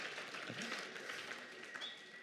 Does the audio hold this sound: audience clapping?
yes